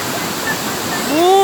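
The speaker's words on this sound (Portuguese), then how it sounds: "vou gravar a cachoeira pra vocês." A waterfall's steady broadband rush fills the scene, constant and close, with a rising whistle-like tone near the end.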